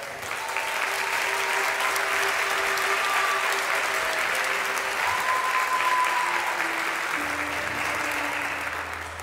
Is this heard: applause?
yes